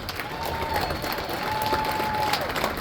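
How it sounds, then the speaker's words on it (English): Crowd applause for Mr. Jack Meyers at a Veterans Day parade in Martinsburg, West Virginia: outdoor clapping mixed with a little crowd noise, fairly loud and continuous for a few seconds. "let's have another round of applause for Mr."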